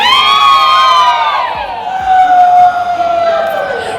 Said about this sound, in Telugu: అందరం ఎలా అరుస్తున్నామో చూడండి.